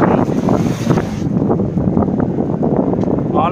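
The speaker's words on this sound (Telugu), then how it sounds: "ఈరోజు మెయిన్గా ఏంటంటే ఆపోజిట్ సైడ్లో గాలి ఎక్కువ బాగా ఉంది." Strong headwind while cycling on a long road ride buffets the microphone in a continuous, close, loud roar with gusty fluctuations throughout.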